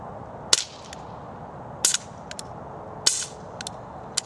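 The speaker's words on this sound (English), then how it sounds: "Just venting out all the gas." A WE PX4 gas blowback airsoft pistol, frozen from cold, vents its gas in sharp bursts: four loud hissing pops spaced about a second apart, with fainter clicks between, close by.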